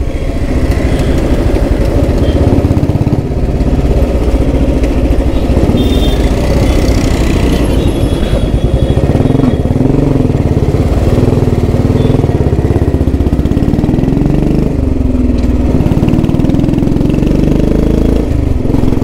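A Thunderbird motorcycle engine in good condition idles steadily and loudly throughout, a continuous low rumble with slight changes in pitch and no voices.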